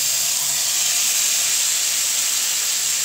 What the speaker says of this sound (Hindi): अब इसमें हम डाल देंगे मैरिनेटेड पनीर और इसे फ्राई कर लेंगे।